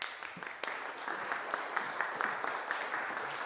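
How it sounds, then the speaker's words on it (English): An audience claps steadily after a talk at a comedic lecture event, a dense, even patter of many hands, moderately close and sustained for a few seconds. "Round of applause."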